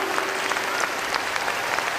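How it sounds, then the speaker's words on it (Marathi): An audience applauds at a religious book-dedication function in Nanded, a dense, steady wash of clapping that fills the whole stretch with no pauses. "जोरदार टाळ्या होऊन जाऊ द्या."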